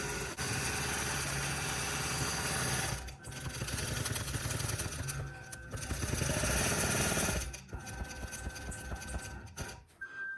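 A sewing machine stitches the outline of a quilted jacket back in fast, even bursts of needle chatter with motor hum, stopping briefly twice between runs.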